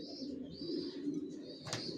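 Racer pigeons in a loft give soft, low cooing calls over a couple of seconds, close and fairly quiet, with a brief sharper rustle near the end.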